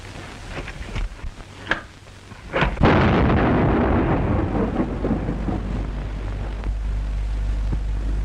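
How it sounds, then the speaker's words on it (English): A loud explosion effect from a 1935 film serial bursts in after a few sharp cracks, then a heavy rumbling roar sustains and slowly decays, thunder-like, with no talk over it. "Explosion."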